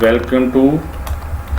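Typing on a computer keyboard during a lesson on installing C, quick clicking keystrokes running underneath someone speaking close to the microphone.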